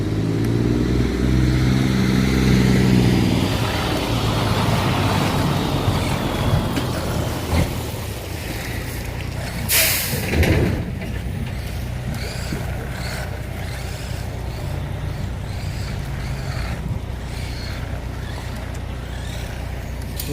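An HBX Hailstorm 1:18 RC off-road 4WD truck drives at speed, its small electric motor whining continuously with rising and falling pitch and gravel crunch, loudest early on.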